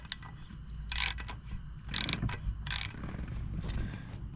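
Ratchet wrench fitted with a 12 mm socket breaking a nut loose on an International Prostar truck, giving three short, loud bursts of rapid clicking at roughly one-second intervals over a low background hum.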